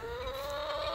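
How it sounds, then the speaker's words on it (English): Chickens cluck in a continuous, close, drawn-out vocalization at a farm, with steady barnyard background and no talking. "Noisy, noisy. Before it was the roosters, now it's the chickens."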